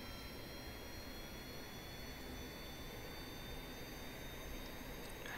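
Rocket engine roaring at full throttle in Kerbal Space Program, a steady, dense, even roar that holds loud and unbroken throughout, with no talking.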